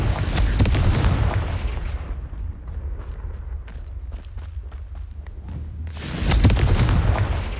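In the video game Hogwarts Legacy, the Confringo spell sets off a heavy, booming blast up front, followed by scattered thuds and crackles, and a second loud burst comes near the end.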